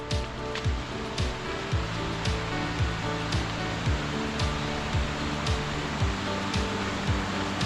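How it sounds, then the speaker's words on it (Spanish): Mountain stream flowing along a hiking trail near the Tabayón del Mongallu in Caso, Asturias, a steady rushing wash of water heard close, with regular low knocking beats repeating underneath. "mirad, una pequeña entrada al arroyo"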